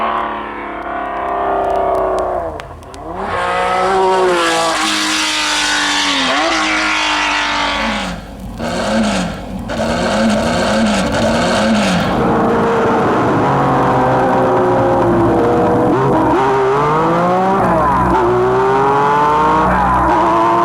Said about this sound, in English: Then when the 906 with this fascinating six-cylinder sound came in